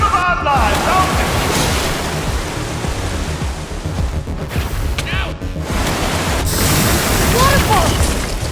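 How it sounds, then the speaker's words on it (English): A Minecraft Story Mode waterfall roars as a dense, loud and steady rush of water, continuous throughout, with faint game sounds and brief voices underneath. "Waterfall!"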